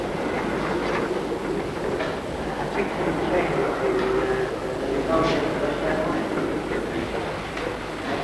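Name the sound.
North Briton train arriving at York station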